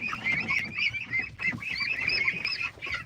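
Ducks and chickens gather at their coop, calling in a busy run of nasal honks and quacks that overlap at close range, with no one speaking.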